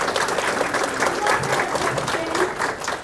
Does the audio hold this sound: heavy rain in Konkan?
no